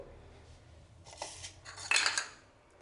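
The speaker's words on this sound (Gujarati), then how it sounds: "ચપ્પુની મદદથી અહીંયા તમે જોઈ શકો છો કે તરત જ આપણો ગોળ સમારાઈ જાય છે" Softened jaggery sliced with a knife on a plate for sesame laddoos, a few quick metallic scrapes and clinks against the plate, growing louder toward the end after a quiet start.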